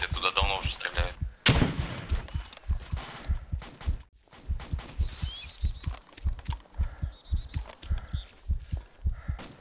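Gunfire from an ArmA 2 ACE battle comes as rapid, repeated sharp shots in bursts, steady and rhythmic, including one loud close blast and a brief pause, with some intermittent speech.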